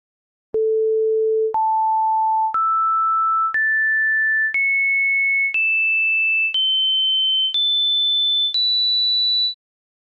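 Old-school synthesizer producing pure sine tones that step upward in pitch once per second, nine clean sustained notes climbing to a very high, piercing pitch, loud and alone.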